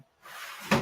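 A drawer at a kitchen table slides open or shut, a soft scraping glide that ends in a brief louder knock, close by and alone.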